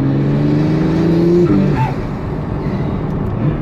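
A Pagani Utopia carbon supercar's biturbo engine revving loudly close by, a steady high rev that drops off sharply after a gear change, then settles into a lower rumble.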